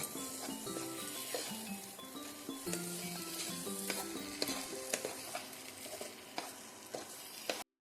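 Bottle gourd and mung dal mash is stirred in a wok, a soft sizzle with scraping and clinking strokes in an irregular rhythm, close and fairly quiet, with no talk.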